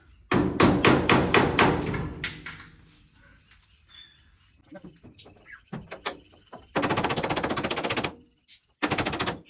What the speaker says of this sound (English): Use an old bolt just to tap it out.